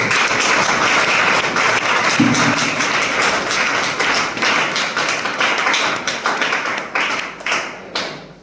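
An audience at a motivational meeting breaks into loud, dense applause that fills the room, sustained for several seconds before thinning into scattered claps at the end.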